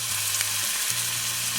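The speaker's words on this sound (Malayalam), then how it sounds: "ജസ്റ്റ് ഒന്ന് വഴറ്റി കൊടുക്കാം" Crushed ginger and garlic sautéing in hot oil for a chicken roll filling, a dense, loud, continuous sizzle with no voice over it.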